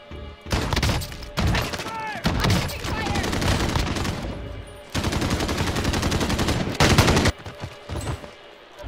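Pink poop gun firing in a video game, a dense run of loud rapid bursts with brief pauses, mixed with game effects and excited voices.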